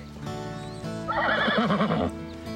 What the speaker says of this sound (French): On ramène les chevaux.